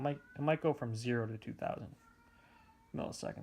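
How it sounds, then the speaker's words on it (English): A house cat yowls and meows outside a closed door, a faint drawn-out cry in the pause between bursts of close male speech. "I apologize for the yowling."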